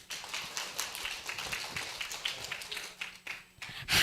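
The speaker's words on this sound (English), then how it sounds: "please give applause for Miss Sirniawati" Audience at an international conference workshop applauding a speaker, a faint, scattered patter of hands heard from a distance, thinning out toward the end before a louder sound enters.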